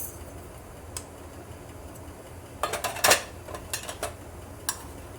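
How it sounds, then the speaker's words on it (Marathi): Mustard seeds land in about two spoons of hot ghee, giving scattered small pops and crackles that bunch into a quick burst of sharp spatters partway through, then thin out, heard up close with no talking. "की त्यात टाकायची आहे मोहरी"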